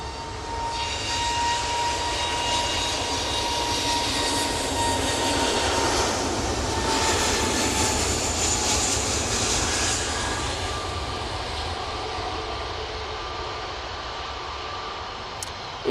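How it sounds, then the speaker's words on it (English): An Airbus A320neo jet takes off for Oslo at Manchester Airport, a steady broad engine roar with a high whine that swells mid-way and slowly eases, heard from a fair distance with no voices. "A320neo on the roll. That's to Oslo."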